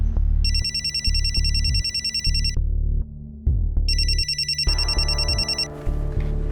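A phone rings with an incoming call in a tense crime drama scene, its bright electronic ringtone sounding in two long bursts over a loud pulsing background score.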